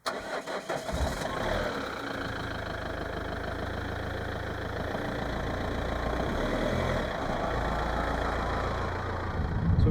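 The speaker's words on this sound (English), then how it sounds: "So we've been pretty much driving on the E6 road for the last 2 days." A car cruising along Norway's scenic E6 road, its engine holding a steady mid-pitched drone with tyre and road rumble underneath, continuous and fairly loud throughout without talk.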